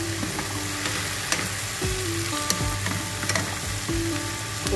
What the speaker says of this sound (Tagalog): At ilagay ko na itong corned beef. Gisa din natin para mas masarap.